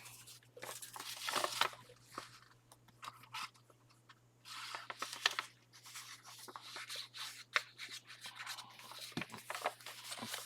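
Paper pages for a tall floral journal being trimmed, with quiet scraping and rustling strokes in irregular bursts, close up under a steady low background hum.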